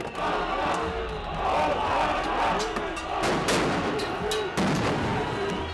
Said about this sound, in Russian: Весь вечер в полицию летят мусор и фейерверки.